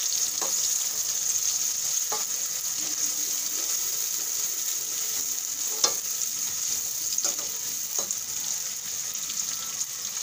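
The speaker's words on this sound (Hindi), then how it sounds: "प्याज को गोल्डन फ्राई करना है।" Sliced onions fry in hot oil toward brown for a fish curry, a bright, continuous close sizzle with a few soft stirring scrapes.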